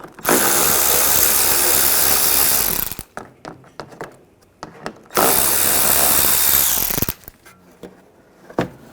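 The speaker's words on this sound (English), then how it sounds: "Underneath, we're going to remove these screws. Same 8mm socket." A power socket tool spins out screws beneath the fender of a 2009–2010 BMW 535i xDrive, two loud sustained whirring bursts, each followed by clicks and rattles of parts being handled close by.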